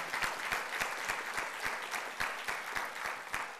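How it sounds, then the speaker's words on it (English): Audience applauding steadily at a governor's remarks during a university AI symposium, with sharp separate claps standing out over a full, even wash of clapping from a large crowd. "Let's give him a huge round of applause for what he is doing for us."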